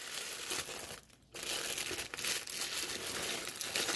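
Tissue paper wrapping crinkles while a small-shop parcel is unwrapped, a close, continuous rustle with a brief pause about a second in, then more crumpling.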